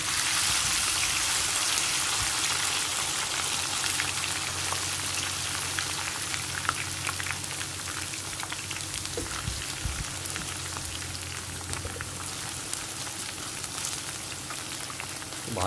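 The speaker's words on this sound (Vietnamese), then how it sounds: "Dầu nóng rồi mình bỏ xả" Lemongrass frying in hot cooking oil for a rustic Vietnamese frog dish: a steady, dense sizzle and crackle runs the whole time, close and fairly loud, with no talking.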